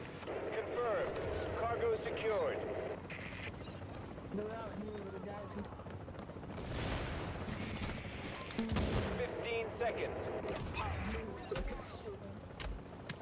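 Gunfire in The Division video game rattles in repeated bursts, close and loud, overlapping with players talking over it.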